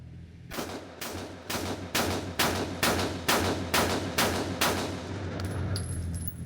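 A Glock 26 pistol fires about ten shots in quick, evenly spaced succession, each a loud, sharp report with a short ringing tail, close by and outdoors.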